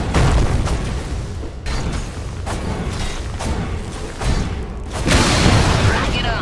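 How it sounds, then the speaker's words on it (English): Booming game-battle bursts from a Dota 2 match as the Radiant middle tower is destroyed, with several loud thuds and crashes spread across a dense, continuous wash of combat noise, the heaviest burst near the end. "Radiant's middle tower has fallen."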